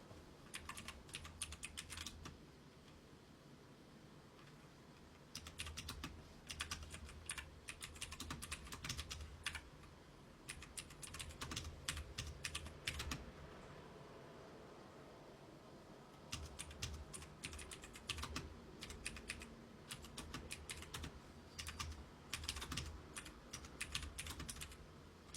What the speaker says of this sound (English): I'm just taking a little typing break.